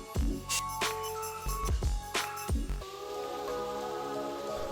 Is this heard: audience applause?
no